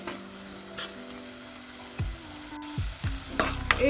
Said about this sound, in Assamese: দুইৰ পৰা 3 মিনিটমান এনেকৈ ভাজি কৰিম।